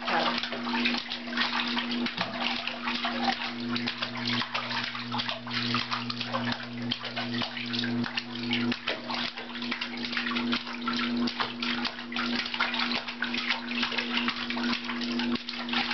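A child splashing in a bathtub, with a steady wash of water sloshing and a constant hum under it, plus scattered sharper splashes, going on throughout at moderate volume.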